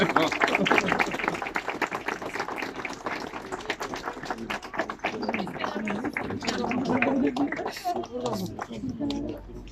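Applause at a ribbon-cutting ceremony opening Op. Dr. Halit Baykan's aesthetic plastic surgery clinic: dense clapping fills the first half and softens later, mixed with steady talk from people nearby.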